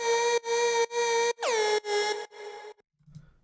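An electro house synth with its amp stage removed and an unsynced 8-step pattern chops into loud, buzzy, horn-like blasts, then bends downward and fades into a weird, dying tail before near silence.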